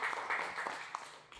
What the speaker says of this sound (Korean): 자리하셨습니다. 박수 부탁드립니다.